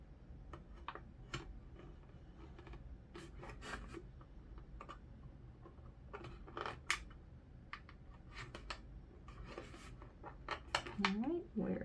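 Close scraping and rasping strokes of an X-Acto knife cutting through cardboard, in short irregular bursts with small ticks between them and a brief rising tone near the end.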